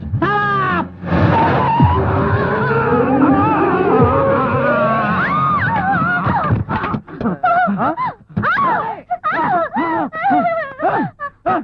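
A bus pulls up with a long, loud tire skid and groaning brakes on a road, the screech sweeping and wavering for several seconds before choppy, clattering noises take over near the end.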